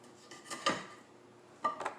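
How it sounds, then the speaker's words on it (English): A knife cutting the roots off asparagus on a plate, two short close scraping clicks about a second apart, quiet and with no talking. "just use a knife to remove the roots. And you just cut it off"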